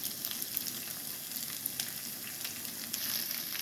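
Poha tossed in a hot pan for potato poha, with raisins already added, fries with an even close hiss and soft stirring crackle and no voices.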